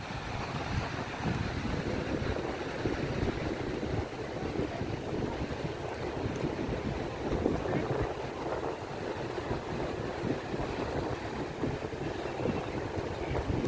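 Cool sea wind blowing hard at Manly Beach in Sydney, a continuous broadband rush and buffeting against the microphone for the whole stretch, with faint background voices.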